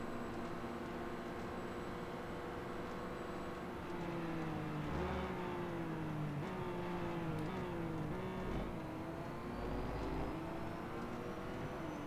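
Several McLaren P1 GTR race cars drive in Real Racing 3, a steady engine drone with rising and falling harmonic lines as gears shift, loud and continuous throughout with no talk.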